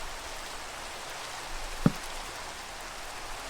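Rain falls in Minecraft as a soft, even hiss of steady rainfall, faint and constant, broken only by a single brief click.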